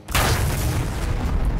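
A single heavy boom from an RPG rocket explosion in the Garry's Mod sandbox game hits abruptly and loud, then rolls on as a broad, dense rumble for over a second.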